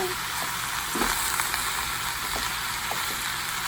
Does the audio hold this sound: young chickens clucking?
no